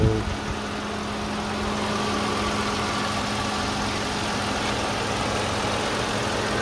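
A 2013 Kia K5 petrol car idles with its engine bay open, giving a steady, even mid-low hum with a faint knocking texture that holds constant from start to finish, with no talk.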